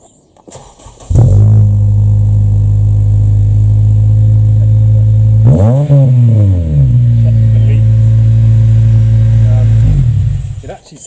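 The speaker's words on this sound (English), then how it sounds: "Final thing to do is get the car out of gear and start it up." Honda Civic Type R EP3 with a K20A2 engine and newly fitted catalytic converter cranks and fires, then idles steadily with a single sharp throttle blip midway before shutting off.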